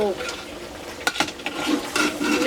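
Bone-marrow curry being stirred and sautéed in a pan, with a steady close sizzle and a few sharp utensil scrapes against the metal over a short stretch.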